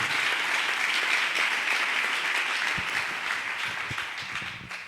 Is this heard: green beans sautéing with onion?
no